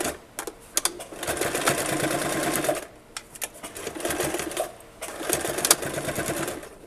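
A home sewing machine stitches a seam on a skirt in steady whirring bursts of rapid needle clatter, pausing briefly between runs, close and moderately loud.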